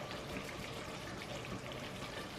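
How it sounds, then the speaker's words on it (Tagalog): Water pours steadily into a cooking pot while menudo is being prepared, a continuous close splashing rush with no talk over it. "Maglagay na ako dito ng tubig."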